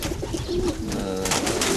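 Racing pigeons coo softly and repeatedly nearby, with low throaty calls overlapping against a busy background of rustling and bird noise.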